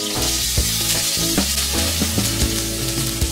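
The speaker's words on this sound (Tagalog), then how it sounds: "Bawasan lang natin konti yung mantika para makapagisa na tayo ng minced onion," Minced onion sizzles and fries in oil in a pan, a steady loud crackle with occasional sharper pops and stirring clatter throughout.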